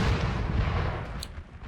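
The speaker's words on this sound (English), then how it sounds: "You got all of these massive artillery pieces here." Heavy artillery cannons fire in the Napoleonic battle game Napoleon Total War, a dense, booming rumble of overlapping blasts that slowly fades, heard without talk.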